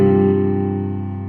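A sustained synth chord from a Launchkey 37 Mk4 MIDI controller, all notes struck together with no roll, ringing steadily and slowly fading, alone and close.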